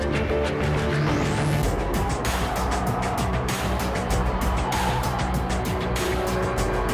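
Racing cars in a Gran Turismo race accelerating hard, with continuous loud engine roar, rising revs and occasional tire squeal throughout, no pauses.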